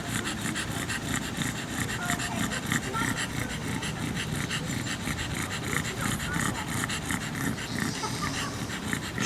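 A dog panting hard with occasional snorts, steady close breathing for the whole stretch, heard outdoors during a heel training session for a dog reactive toward bikes.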